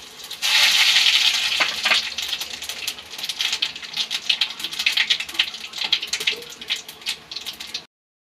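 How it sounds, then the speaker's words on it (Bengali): Whole cumin and whole garam masala hitting hot oil in a wok, a bright burst of sizzling that settles into steady crackling and popping, close and fairly loud. "এখন তেল দিয়েছি কড়াতে, এখন দিয়ে দেব গোটা জিরে আর গোটা গরম মশলা একসাথে"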